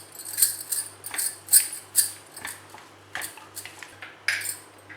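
Cooked rice being mixed by hand with a spoon for Tamil-style mango rice, giving repeated light scraping and clinking strokes in an irregular rhythm, close and fairly quiet.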